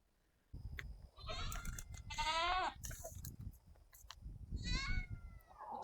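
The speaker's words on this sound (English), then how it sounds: "the goats seem to have found their way out here to the east side" Goats out in a backyard paddock bleat loudly and repeatedly, close by, with rustling and movement filling the gaps between calls.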